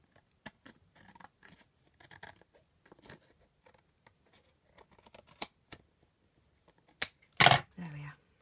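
Scissors cut excess card off a handmade Christmas card: a few quiet snips and paper handling, then a louder close crisp cut and a rustling slide near the end, with light background sounds.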